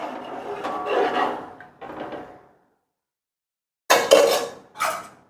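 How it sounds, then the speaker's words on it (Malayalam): Water is stirred into a 1 kg batch of Palakkad Rawuther mutton biryani in a cooking pot, with two bursts of clattering and scraping, a short silence, then two sharper metallic scrapes close by. "നന്നായിട്ടൊന്ന് ഇളക്കി യോജിപ്പിക്കാം."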